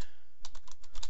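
Rapid keystrokes on a computer keyboard during Java coding work, a quick run of about eight clicky taps close up over a steady low hum, following a brief quiet start.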